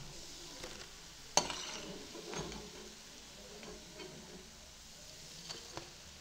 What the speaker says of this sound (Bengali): ভালো করে লাল লাল করে ভেজে নিয়েছি, তুলে নেব। দেখুন এইভাবে ভাজতে হবে।